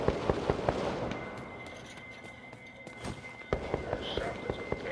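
Shotgun blasts in the video game BloodHunt, a string of sharp booming shots at irregular intervals, some loud and close, mixed with footsteps and quiet talking.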